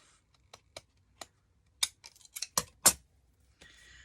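Scissors cut through a folded paper card, trimming off the glued edge: a few faint early snips, then louder, sharper crisp cuts in a quick cluster, ending with a soft rustle of the card.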